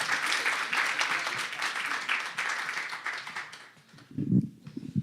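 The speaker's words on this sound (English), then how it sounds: "Let's give him a big round of applause and welcome up to the podium." Audience clapping to welcome a speaker to the podium at a talks series event, a full round of applause that thins out and fades near the end as a voice begins.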